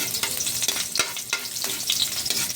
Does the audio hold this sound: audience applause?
no